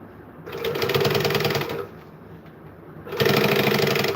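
A sewing machine stitches a bag seam in two bursts of rapid, buzzing mechanical chatter, the first longer and the second louder after a short pause, close and alone.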